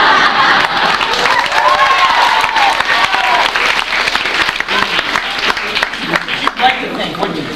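A theatre audience applauding and cheering from in front of the proscenium stage, loud sustained clapping with shouts and whoops rising and falling throughout.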